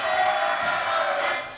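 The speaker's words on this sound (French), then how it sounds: "Allez, applaudissements pour Florian" A studio audience at a French TV comedy news show breaks into loud applause and crowd noise, a dense, sustained roar that fades slightly at the end.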